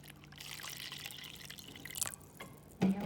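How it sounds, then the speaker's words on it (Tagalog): Vinegar is poured over chicken eggs in a container to make salted eggs, giving a soft, steady trickle of liquid with faint splashes near the end. "lagay ko na tong suka dito"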